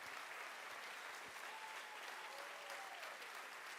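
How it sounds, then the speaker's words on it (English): Sustained applause from a large audience at a university college of engineering welcome event, even and continuous throughout, with a faint tonal whistle partway through and no talking. "Another big round of applause."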